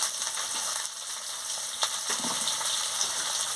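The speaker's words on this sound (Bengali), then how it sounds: "মশলার সঙ্গে ভালো করে কষিয়ে নিচ্ছি।" Potatoes frying with ginger-garlic paste and spices in a pan, a steady bright sizzle with occasional stirring scrapes, close and continuous, no voices.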